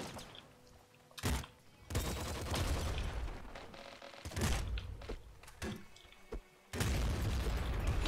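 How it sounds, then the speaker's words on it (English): Big explosions in a shooter video game: several loud, sudden booming bursts with long noisy tails, separated by brief quieter gaps. "That explosion was so big."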